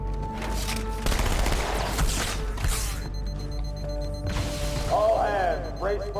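Bursts of weapon fire in the Halo 2 video game, dense rattling volleys with mechanical clanks and a brief electronic sweep near the end, mixed with in-game voices.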